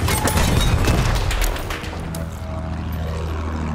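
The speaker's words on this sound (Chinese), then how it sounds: "看你们三台飞机轮番轰炸他。" Warplane bombing runs in the first-person shooter Battlefield 1: a loud rumbling barrage of blasts and gunfire over roaring propeller engines, easing after a second and a half into a steady low engine drone.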